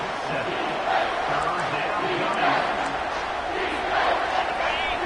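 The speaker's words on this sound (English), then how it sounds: "And here comes the noise. This crowd is trying to inspire this defense to make a big red zone stop." A large crowd roars steadily in a stadium during an LSU vs Texas football game as the defense faces a red zone stand, a dense sustained wash of voices swelling slightly at moments, loud and continuous throughout.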